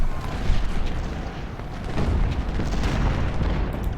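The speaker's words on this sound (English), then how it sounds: "Some really nice artillery shots here." Civil War artillery cannons fire in Ultimate General: Civil War, a steady rumble of deep booms and distant blasts rolling over continuous battle noise, with several heavier reports standing out.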